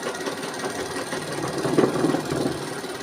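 A sewing machine stitching along a strip of cloth, a steady close mechanical whir with a rapid rattling rhythm that swells slightly toward the end, with no talking.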